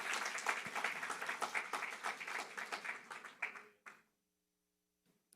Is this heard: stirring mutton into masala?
no